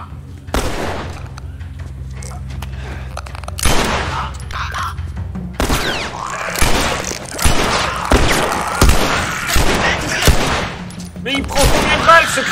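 Gunfire aimed at a clicker in The Last of Us: loud, close shots that come singly and in clusters, with booming reports and a steady background hum throughout.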